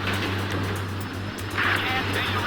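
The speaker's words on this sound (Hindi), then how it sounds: "इसी के साथ हेलीकॉप्टर भी आ चुका है।" Police helicopter arriving in GTA 5, a steady low rotor drone holding throughout at moderate level, with a brief brighter rush of noise partway through; no speech over it.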